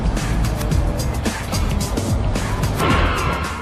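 Car engine roaring through a New York City driving level of a video game set across city streets and a park, a continuous loud drone with passing swells and a brief crash-like burst near the end.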